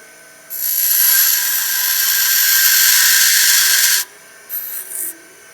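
A grinder cuts into a metal car part in one loud, sustained hissing grind of about three and a half seconds, then stops and is followed by two short bursts of grinding.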